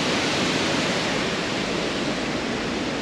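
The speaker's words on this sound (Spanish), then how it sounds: "Qué espectáculo, la fuerza del agua." Pailón del Diablo waterfall roaring nearby, a dense, loud, unbroken rush of crashing water with no voices.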